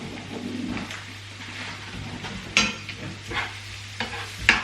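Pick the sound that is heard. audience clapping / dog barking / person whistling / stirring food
stirring food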